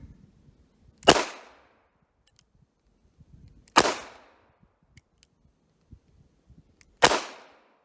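An 1895 Nagant revolver fires 7.62x38mmR surplus ammunition at a shooting range, three sharp, loud, isolated shots spaced a few seconds apart with faint handling clicks between them.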